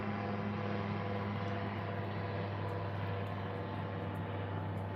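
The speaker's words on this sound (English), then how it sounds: "there's another plane kind of overhead" A propeller airplane drones steadily overhead, a constant low engine hum at even loudness throughout, with no talk.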